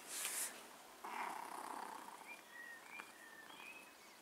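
A pet cat purrs softly in a quiet room early in the morning, a faint low rumble with a few light high chirps and squeaks over it.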